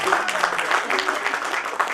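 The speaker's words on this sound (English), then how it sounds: "So big round of applause for this golden girl tonight." Audience applause at an awards show, a steady dense clapping that fills the whole stretch at even loudness, with a faint voice or music tone running underneath.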